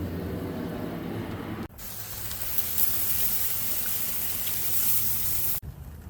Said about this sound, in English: I'm spraying every about 30 minutes to an hour with some equal part apple cider vinegar and some water